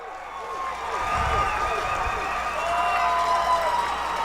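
Crowd noise at a men's college lacrosse game between Piedmont and Pfeiffer swells into steady cheering and shouting after a goal, a broad continuous roar lasting throughout with some scattered clapping.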